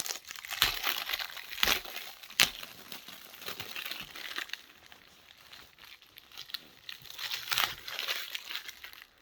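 Plastic packaging being crinkled and peeled off a katana sword handle, faint and close, with scattered sharp crackles and tearing bursts over continuous rustling.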